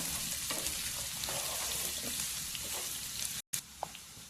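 Sliced carrots and green chillies stir-fry in a hot pan, a constant close sizzle with soft scraping as they are tossed and mixed, one momentary cut near the end; no talking.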